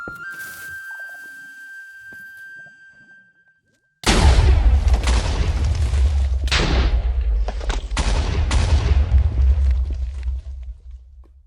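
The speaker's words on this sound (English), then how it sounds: "a creeper just walked up to me and exploded next to this TNT machine" In a Minecraft hardcore world, a creeper explodes beside a TNT machine after a quiet stretch with a steady tone. A chain of loud, booming blasts follows, overlapping for several seconds before fading.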